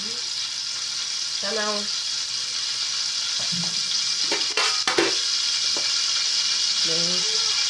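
Vegetable oil frying in a pot for jollof rice, a steady loud sizzle and crackle with a few stirring clinks, as a voice speaks briefly over it.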